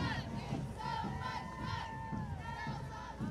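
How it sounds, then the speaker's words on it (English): Parade crowd cheering and shouting in Mystic, Connecticut, a steady roar of voices with whoops and yells rising throughout, fairly close and continuous. "The guys in the back can cheer too."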